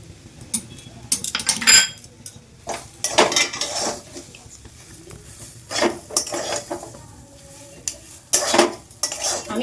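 A spoon scrapes and clanks against a metal pan in uneven bursts with quiet gaps between them, stirring boiled green peas with ground roasted dried chili, cumin and cardamom for a pea paratha filling.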